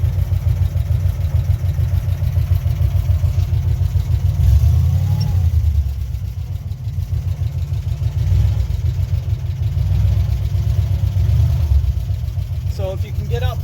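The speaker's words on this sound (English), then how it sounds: "So if you gently press on the gas now, it shouldn't hate it. It likes to spin a little." A 1957 Chevy 5400 truck engine idles and spins up under gentle throttle, a loud steady low rumble with slight swells, while someone talks over it throughout.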